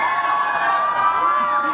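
A crowd cheers and whoops for cricketer Virat Kohli at a Tissot watch launch event in Mumbai. The roar is steady and dense throughout, with shrill voices rising above it.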